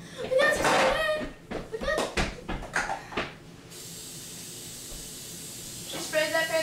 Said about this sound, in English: She sprayed that pan.